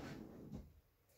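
A kitchen drawer in a 2024 Venture SportTrek RV slides open smoothly on full-extension runners, a short, quiet rolling rumble with a soft bump, heard alone and close.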